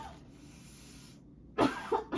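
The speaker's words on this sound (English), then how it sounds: "I don't really cough that often" A single sharp cough breaks through faint background hiss, followed by a short second burst, close and fairly loud against the quiet room.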